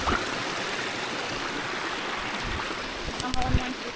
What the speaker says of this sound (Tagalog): Ganda ng sapa oh.